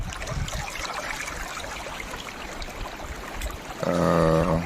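Water trickling and flowing in the Piro river in a forest, a steady continuous babble at moderate level, with a brief louder tonal sound near the end.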